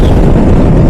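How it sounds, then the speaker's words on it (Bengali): Strong wind roars and buffets the microphone while riding along a road, a loud, continuous low rumble. "প্রচুর বাতাস"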